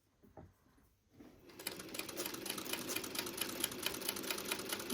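Sewing machine stitching a quarter-inch seam on Nordic Sweater and Double Quartet quilt blocks: after a few faint clicks it starts up into a quick, even, rapid needle chatter with a light motor whir, close but quiet.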